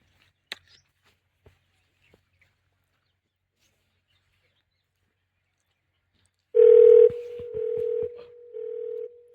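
A telephone gives a short burst of keypad dialing followed by a steady, ringing tone that comes in three separate stretches, after a quiet lead-in with a few faint clicks.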